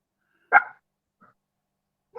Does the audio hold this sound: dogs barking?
yes